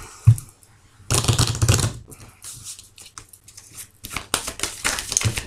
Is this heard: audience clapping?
no